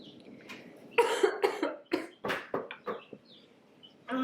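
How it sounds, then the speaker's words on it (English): A person coughs a few times up close, short harsh bursts in a home kitchen while making a copycat Starbucks pumpkin cream cold brew. "I just coughed."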